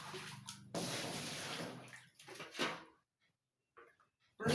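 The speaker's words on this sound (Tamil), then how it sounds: "தண்ணி இதுக்கு நிறைய ஊற்ற போகிறேன். தண்ணி ஃபுல்லாக ஊற்ற போகிறேன்." Water splashes and pours heavily into a small pond for a couple of seconds, then trickles off into quiet, with a brief splash returning near the end.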